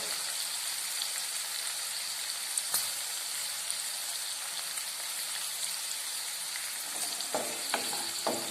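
Kanthari chili pickle with turmeric and asafoetida is stirred in a pan over steady close frying sizzle, with a few soft scraping clicks from the stirring toward the end; nobody talks.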